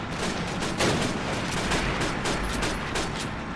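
Rapid gunfire from Call of Duty: United Offensive, dense overlapping rifle and machine-gun shots crackling loudly and continuously for a few seconds.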